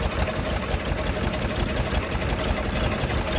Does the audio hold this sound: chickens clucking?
no